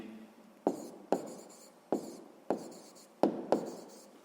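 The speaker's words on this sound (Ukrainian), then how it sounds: "Отже, записуємо у 10 столітті." A pen writes an answer in a sixth-grade maths exercise, heard as a series of short scratchy strokes, about six distinct taps and scribbles close by, with no talking.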